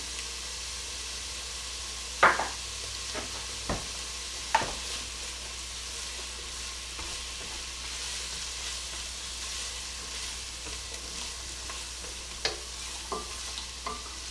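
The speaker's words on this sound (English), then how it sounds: "After you add this in, you want to let it saute for about maybe a minute." Parsley and thyme sauté in a pot for chicken rice soup, a steady soft sizzle with a few sharp stirring knocks and clinks nearby, no talk.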